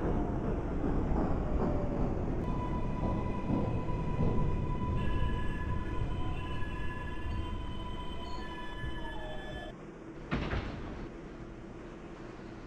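An NYC subway F local train, simulated in OpenBVE, rolls along the track with a continuous rumble, high steady whining tones and brief wheel-squeal streaks, then a sharp burst near the end.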